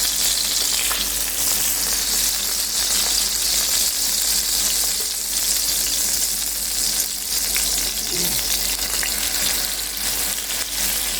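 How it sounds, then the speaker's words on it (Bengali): Prawns fry in a pan with a steady, continuous sizzle, close and fairly loud, with no talking over it. "জাস্ট 2 মিনিটের মতো ভেজেছি আমি, বেশি ভাজা যাবে না, তাহলে শক্ত হয়ে যাবে।"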